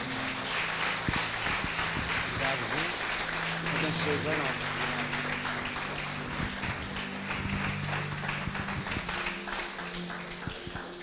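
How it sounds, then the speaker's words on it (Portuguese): A church congregation at a Sunday service applauds loudly and continuously, a dense wash of many hands clapping throughout, with voices and a sustained low musical tone under it. "Você pode aplaudir bem forte ao Senhor?"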